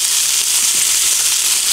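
Small pieces of peacock bass sizzle in hot olive oil, a steady, dense hiss with faint crackle running unbroken at close range, no voices over it.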